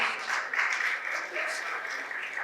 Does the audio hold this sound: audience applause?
yes